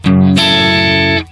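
Electric guitar sustaining a distorted, harmonically rich note played through a Headrush MX5 amp simulator with a ribbon 121 mic model, a lower note switching to a brighter chord that rings steadily, then cut off sharply.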